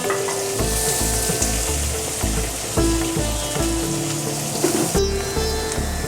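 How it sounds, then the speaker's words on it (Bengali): Chopped onion sizzling steadily in hot white oil over a high flame for a chicken dish, a continuous close, loud fry with crackling bursts and occasional stirring clatter, no voices. "পেঁয়াজ কুচিটা একটু হাই ফ্লেমে ভাজবো"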